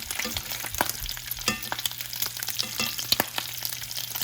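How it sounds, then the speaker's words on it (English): Bacon fries in a skillet, a close crackling sizzle dotted with sharp pops and spits of grease at irregular intervals. "it's cooking faster than I would like and the grease is popping"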